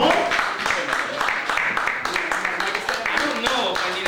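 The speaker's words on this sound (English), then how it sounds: "Give a round of applause" An audience claps steadily for Samuel F. Reynolds at a presentation, a dense patter of hands running throughout, with a voice talking over it.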